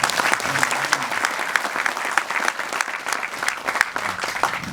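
Loud, sustained audience applause fills a hall after a film screening, dense clapping from a large crowd continuing steadily throughout without pause.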